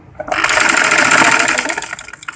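A sewing machine runs in one loud, continuous burst of rapid stitching lasting about two seconds as it sews a samosa design onto a frock, starting and stopping abruptly.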